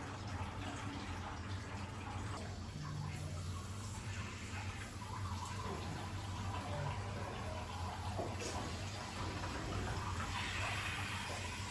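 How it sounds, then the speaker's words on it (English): Water flows steadily out of an old washer's gate valve as the hose is disconnected, a continuous faint rushing trickle into a bucket with no pauses. "this one still has water flowing out when we go to disconnect the hose"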